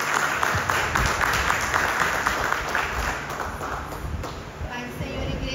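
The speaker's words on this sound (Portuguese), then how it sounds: "Receba a serva de Deus com as palmas para Jesus." A church congregation claps for Jesus during a service, dense applause filling the room steadily and loud throughout, with voices mixed in beneath the clapping.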